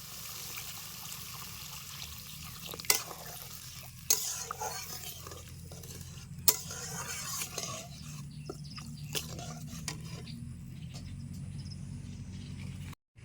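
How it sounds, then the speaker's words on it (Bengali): Water poured into a pan of fried spice paste with green chillies for a fish curry brings a soft, steady sizzle and bubbling, with a few sharp clinks of a spoon stirring against the pan. "এবার আমি দিয়ে দেবো জল"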